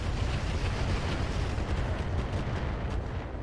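Heavy weapons fire from a mech in the RogueTech battle game, a dense continuous barrage of booming low rumble and crackling blasts with no let-up, loud and close throughout.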